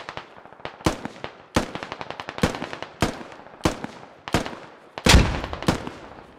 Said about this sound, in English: Whoa, grenades too.